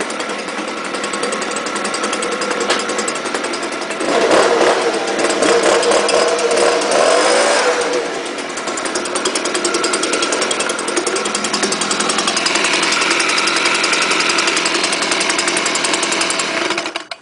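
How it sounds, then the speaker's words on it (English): A STIHL BG 86 leaf blower runs with a loud, steady high-pitched engine drone throughout, surging slightly for a few seconds before settling back into a constant whine. "Pretty sweet blower."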